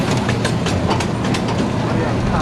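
A moving train rides on the rails, filling the clip with loud continuous rumble and rattling rail clatter heard from on board.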